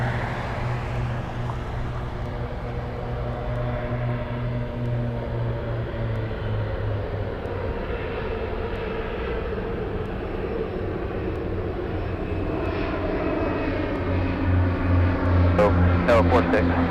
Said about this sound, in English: We have F-22s flying in formation.